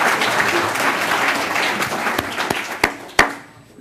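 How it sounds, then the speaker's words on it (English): Audience applause at a City Club of Cleveland forum swells as a dense burst of clapping, then thins to a few scattered, sharp claps before fading out. "it doesn't matter how meek the applause is, quit when you hear it."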